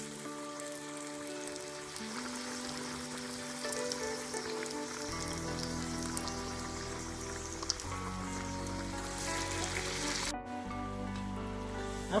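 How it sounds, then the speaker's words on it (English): Parippu vada, lentil fritters, sizzle and fry in a pan of hot oil over a medium flame, a steady close crackling hiss that lasts throughout, with faint background hum and no talking. "Now I finished spreading the Parippu Vada and now we are going to fry it."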